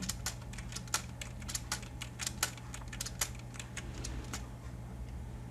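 Input values being typed on a computer keyboard: a quick, irregular run of close, light key clicks over a faint background hum.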